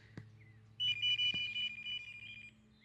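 An NGT Dynamic wireless fishing bite alarm sounds a clear, steady electronic tone for about two seconds after a couple of soft clicks, with a low hum underneath.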